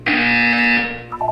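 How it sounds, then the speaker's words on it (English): A loud, steady electronic buzzer blares for about a second inside a Portal 2 video game test chamber, then cuts off as a faint softer tone follows. "You will hear a buzzer."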